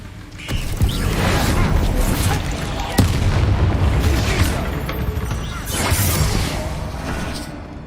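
A Confringo spell blast in a video game lands as a booming, explosive impact over rumbling game ambience, with a few further thuds and a sharp crack partway through.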